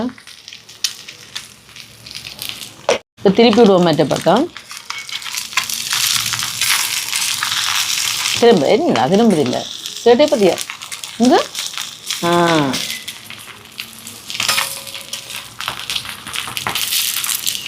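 Parotta frying in oil in a pan gives a steady, close crackling sizzle that runs the whole way through, while a person talks over it at intervals and a sharp clatter sounds near the start.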